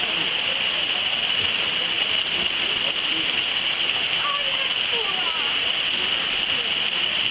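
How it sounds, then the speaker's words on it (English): Rain falls outside during breakfast, a steady even hiss of drops on surfaces, soft and continuous with no talk. "A little bit of rain outside of breakfast."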